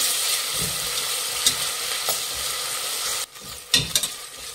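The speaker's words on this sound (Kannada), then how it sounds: "1 ಟೇಬಲ್ ಸ್ಪೂನ್ ಅಷ್ಟು ಶುಂಠಿ ಬೆಳ್ಳುಳ್ಳಿ ಪೇಸ್ಟ್ ಹಾಕ್ತಾ ಇದ್ದೀನಿ. ಮಿಕ್ಸ್ ಮಾಡಿ ಹಸಿ ವಾಸನೆ ಹೋಗಬೇಕು." Ginger garlic paste fries with onions in a pan, giving a steady, close sizzle broken by a few scraping stirs of a spoon near the end.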